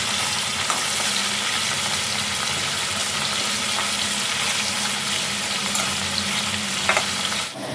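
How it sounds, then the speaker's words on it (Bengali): Pointed gourd and shrimp fry in a pan with a loud, steady sizzle that stays constant throughout, with no talking. "এদিকে আমার পটল চিংড়ি হয়ে আসছে"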